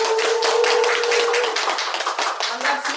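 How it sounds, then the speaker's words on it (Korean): Audience applause welcoming a speaker at an indoor gathering, a brief burst of dense clapping that thins out toward the end. "큰 박수로 모시겠습니다"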